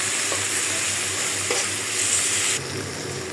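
Onion and spices sizzling in a pan for a dried-fish curry, a loud, steady, close hiss with a couple of soft spoon taps before the sizzle drops lower near the end.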